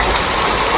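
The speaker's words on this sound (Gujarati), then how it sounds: "વરસાદ કેટલો પડતો છે" Heavy rain falling in Navsari during a downpour, a loud dense constant wash of drops with no break, close and steady throughout.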